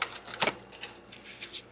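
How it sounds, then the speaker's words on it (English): A tarot card deck is shuffled briskly up close, quick papery riffles and flicks in a short irregular burst. "I'm going to go ahead and give it a few shuffles real quick."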